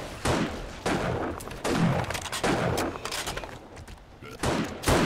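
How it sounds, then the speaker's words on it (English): Rapid bursts of gunfire in the video game 7 Days To Die with a Wild West mod, heavy overlapping shots from rifles such as a Winchester and hunting rifles, loud and dense in repeated volleys with no clear pauses. "It sounds like a cowboy western, all these shots going off."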